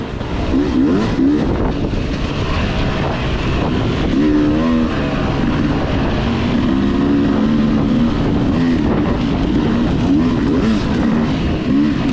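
Beta 300RR two-stroke dirt bike ridden along a trail in fourth gear around 32 mph, a loud, unbroken engine drone with wavering pitch and wind rush close by.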